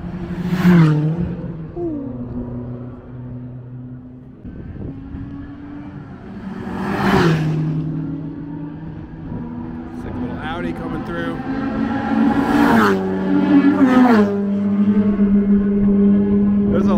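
Fast cars, including a BMW, sweep past at a track day in Buenos Aires, Argentina, each engine rising to a loud whine then falling away as another follows close behind, with people talking throughout.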